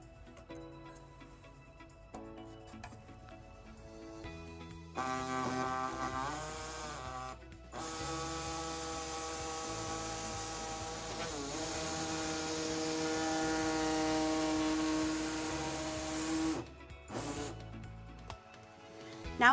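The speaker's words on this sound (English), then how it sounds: "So today we'll be using an air saw to trim our fascia" An air saw trims the plastic bumper fascia of a 2018 Volkswagen Tiguan Limited, a close, loud, steady buzzing that runs for about twelve seconds, then stops and leaves a quiet stretch.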